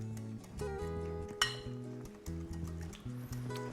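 A utensil stirring a softened icy mixture in a bowl, giving repeated close clinks and scraping knocks against the bowl in an uneven rhythm, with one sharper clink partway through, no speech.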